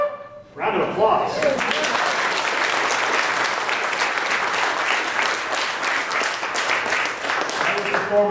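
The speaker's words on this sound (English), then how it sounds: "Round of applause." Church congregation, standing, bursts into applause after a brief quiet start, loud sustained clapping filling the room for several seconds and tapering slightly near the end.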